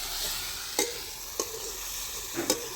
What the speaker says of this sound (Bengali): আস্তে আস্তে আমি নেড়ে চেড়ে ভালো করে কষা করে নেব।